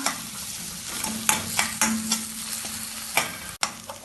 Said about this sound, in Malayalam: ഇത് ഇളക്കി വഴറ്റാം